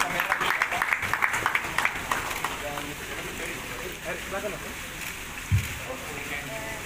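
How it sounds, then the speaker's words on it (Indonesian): An audience bursts into applause at a community stunting-prevention gathering in Tanjungpinang, with the clapping loudest over the first two seconds before fading into general room noise and talk. "Aplaus bersama"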